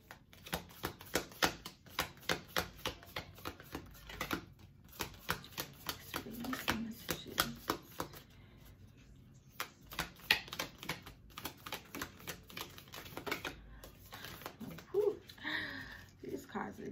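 Tarot cards being shuffled, a run of quick riffling and slapping bursts that repeats through the clip at close range, fairly quiet, with a voice speaking now and then.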